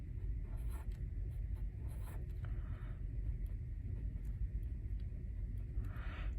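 Pencil writing and drawing on paper while working integer math homework, with faint scratchy strokes under a steady low background rumble.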